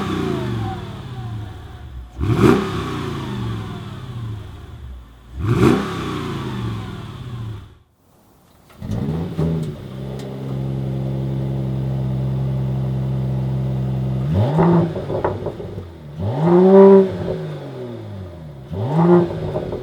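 A 2019 Mercedes-AMG E53 4matic+ Coupé accelerates on the road in several strong surges, each rising pull cut by a shift, then a brief quiet gap before a long steady cruise and more revving bursts near the end.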